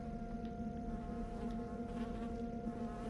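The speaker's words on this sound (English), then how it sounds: "there's actually bee noises that play for these guys" Surveillance drone enemies in the Mass Effect video game give off a faint, steady insect-like buzzing drone, bee-like and continuous over a low humming background, with no talking.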